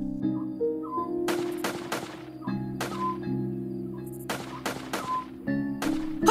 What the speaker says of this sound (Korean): 넘너리 너머에서 들리는 총소리 아닌가요?